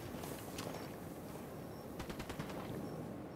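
Rapid gunshots ring out in the Ghost Recon video game, a fast string of sharp cracks from a pistol near the end over a steady noisy background, moderately distant and fairly quiet.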